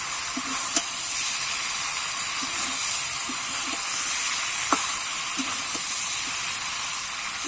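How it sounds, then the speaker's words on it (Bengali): A ground spice paste of cumin and other spices sautés in oil for a Bengali-style grass carp fish curry, giving a steady, close sizzling hiss with a few faint clinks of a utensil. "এইভাবে আমি কিছুক্ষণ ধরে কষিয়ে নেব।"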